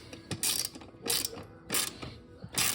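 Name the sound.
ratchet tightening motorcycle exhaust bolt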